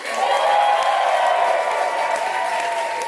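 A nightclub comedy-contest crowd in New York bursts into sustained, loud applause and cheering for comedian Boris Kakin, a dense wash of clapping and whoops that stays steady for a few seconds.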